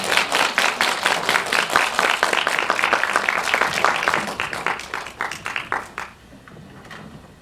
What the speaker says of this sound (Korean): 감독님 박수로 맞아주시기 바랍니다